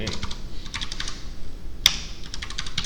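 Typing code on a computer keyboard gives quick, close bursts of key clicks in an uneven rhythm, with one louder key strike partway through and no talking.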